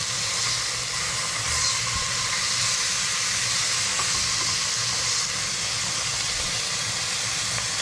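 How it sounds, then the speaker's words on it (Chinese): A kitchen range hood on its lowest fan setting drones with a steady airy whoosh and low hum while fish pan-fries, continuous and close with no voices. "幸好我的抽油烟机还算够力，我现在是用最小的风力在抽而已"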